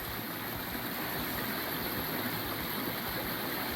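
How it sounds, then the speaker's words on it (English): A stream flows beside a trail shelter on the Appalachian Trail in Virginia, a steady, continuous wash of running water with no break and no voices. "Filling up my water here at the stream next to the shelter"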